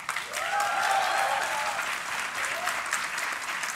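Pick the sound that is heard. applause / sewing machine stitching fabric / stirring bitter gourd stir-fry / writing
applause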